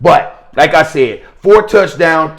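A dog barks and yips intermittently in the background, mostly masked by someone talking close to the microphone.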